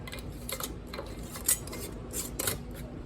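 Metal wide mouth lids and screw rings handled and set onto hot glass canning jars of crushed tomatoes, close clinks and scrapes in several short taps, no talk.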